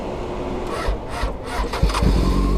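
A motorcycle starter cranks sluggishly on a weak battery in repeated labored bursts, a low grinding churn that never catches.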